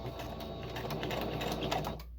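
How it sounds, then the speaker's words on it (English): A sewing machine hums and taps steadily at close range while stitching ruffles into paper ribbon, running continuously before cutting off at the end. "start sewing"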